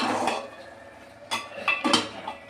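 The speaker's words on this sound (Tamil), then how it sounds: "கேஸில் ஆன் பண்ணி வச்சுட்டே கிண்டி விடணும்." Sweet pongal with ghee being stirred in a metal pot on a gas stove, with a ladle scraping and clinking against the pot in a few distinct knocks, close by and without talk.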